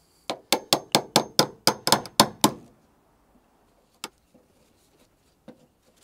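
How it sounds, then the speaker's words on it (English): A hammer tapping on the metal bodywork of a 21-year-old car: about ten quick, sharp, ringing strikes in a steady rhythm, then a pause and a few isolated lighter taps, close and loud. "we're just going to tap it with a hammer just to make life a bit easier"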